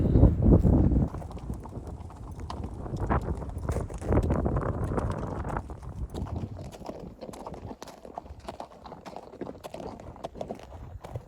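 Horse hooves clip-clop steadily along a trail during a long-distance horseback journey, the steady rhythmic beats close by with wind noise around, louder at the start and continuing without talk.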